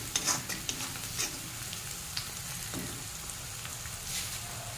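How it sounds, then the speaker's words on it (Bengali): Onion frying with chili powder in a pan for a cauliflower mash dish, a steady close sizzle broken by scraping stirs from the spoon against the pan, with no talk. "দিয়ে এইভাবে নাড়াচাড়া দিয়ে দিয়ে পেঁয়াজটা ভালোভাবে একটু ভেজে নেব।"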